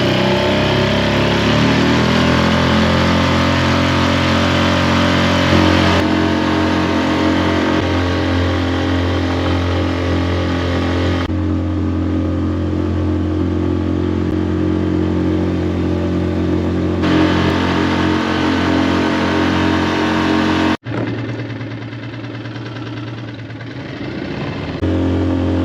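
Mercury 6 hp four-stroke outboard motor running on a lake, a steady, continuous drone that holds an even pitch for over twenty seconds, then dips abruptly in level near the end.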